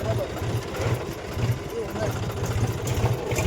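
A tractor engine idles with a steady low throb of rhythmic pulses, heard close and moderately loud.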